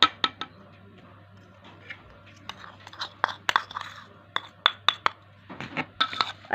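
Dahi baray chaat ingredients with tomato being stirred in a bowl, with sharp clinks and scrapes of a spoon against the dish coming in irregular bursts, close and fairly quiet with no speech.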